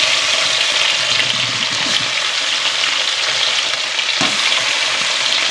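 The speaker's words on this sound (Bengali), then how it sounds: "এই তো মাছগুলো এবার ভাজতে হবে ভালো করে, সুন্দরভাবে কড়া কড়া করে মাছগুলো ভাজতে হবে" Fish pieces frying in hot oil in a wok crackle with a loud, dense, continuous sizzle, with an occasional scrape as they are shifted around the pan.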